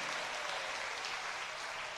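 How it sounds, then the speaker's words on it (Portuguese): A church congregation applauding during a sermon, a steady, dense wash of clapping that stays faint and even throughout the short stretch. "Pode dar aplausos para Jesus."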